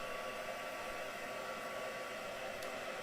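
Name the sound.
dryer drying ink-sprayed craft pieces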